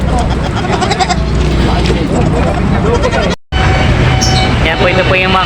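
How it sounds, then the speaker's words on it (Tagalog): Goats bleat amid a loud, busy outdoor crowd at a livestock auction market in Lucena, Quezon, with people talking and engine noise, the calls overlapping in a dense din. "ito po yung mga kambing na kanina binaba doon sa truck"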